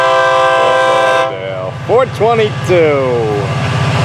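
A freight train with a block of tanker cars rumbles past as its horn sounds loud and close in long blasts, while someone talks over it.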